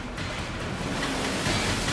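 Tsunami waves crash against a coastline with a continuous, dense roar of surging water, loud and unbroken for the whole stretch with no voices.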